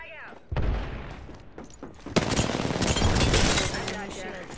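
Frag grenade blast in the video game Apex Legends during a ranked match: a short thump and scattered shots first, then a sudden loud explosion with a long crackling, rumbling tail.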